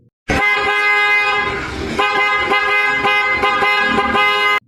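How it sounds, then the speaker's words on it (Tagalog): A loud, blaring motorcycle horn on a TVS or Bajaj is held in one continuous honk for about four seconds, close and harsh, with no talking. "ang lakas ng busina ng PIA"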